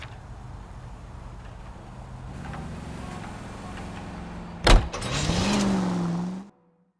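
A car drives in LA Noire with a low, steady engine rumble, then a sharp thump is followed by a rising engine whine before the sound cuts off abruptly.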